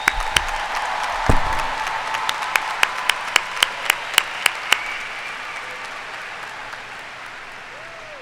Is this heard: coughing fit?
no